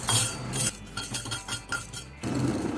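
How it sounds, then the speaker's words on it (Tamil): Fenugreek seeds dry roasting in a bare, oil-free pan, with a spoon scraping and clinking against the metal in repeated rattling strokes, close and fairly loud, no one talking. "வெந்தயம் போட்டு நல்லா வறுத்துக்கலாம்."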